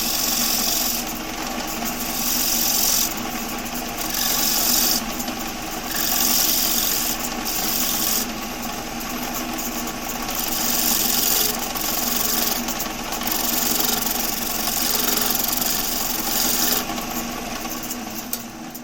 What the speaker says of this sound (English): So I can now put some grooves in there with my spindle gouge.